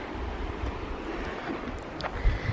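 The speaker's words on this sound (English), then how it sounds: "At least it's nice and windy around here." Wind buffeting the microphone on a coastal hike by the sea, a steady low rumbling roar that continues throughout, with faint surf beneath it and no voices.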